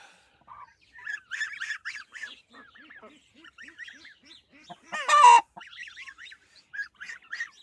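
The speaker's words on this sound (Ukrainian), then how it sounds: "Індюки тут понапушувалися." Turkeys on a farm give a run of short gobbling and honking calls, near and moderate in level, with one louder, harsher burst partway through and quieter calls around it.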